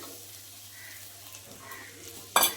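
Semolina is tipped into a frying pan and stirred, making a soft, low sizzle with light scraping, then ending in a brief, sharper clatter.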